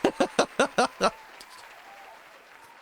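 Six quick, evenly spaced claps in a burst, then quiet room tone, close and moderately loud.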